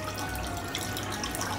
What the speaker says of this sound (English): if you look and see how much I pour in there